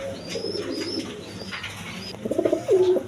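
Pigeons kept for sale with their eggs coo close by, soft murmuring calls that build into a burst of throaty, rhythmic coos near the end.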